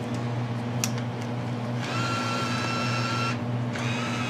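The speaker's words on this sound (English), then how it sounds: "we're gonna put together a quick compilation of the bill going in and out" Vending machine motor whirs as it draws in and ejects a bill, a faint mechanical hum with two higher-pitched whining bursts over a steady low drone.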